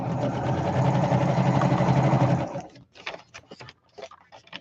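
A sewing machine stitching the edges of a handmade junk journal runs steadily and loudly, then stops, leaving a few soft handling clicks and rustles.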